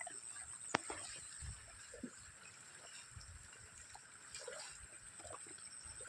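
Steady floodwater from overnight rain flows through farm fields, trickling and gurgling at a low level, with a constant high electronic whine and scattered faint knocks over it.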